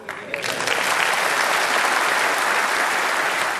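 A Conservative party conference crowd bursts into applause during a Liz Truss speech, swelling quickly from a few claps into a loud, sustained roar of clapping.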